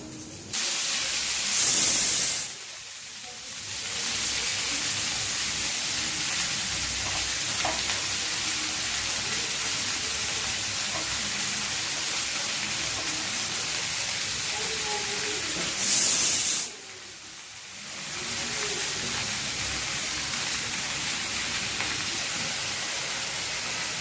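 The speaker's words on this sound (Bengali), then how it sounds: "লঙ্কাটাকে একটু ভেজে নেবো" Five green chilies fry in hot oil for a red amaranth tok, giving a continuous close sizzle interrupted twice by a louder hissing burst followed by a brief dip before the frying resumes.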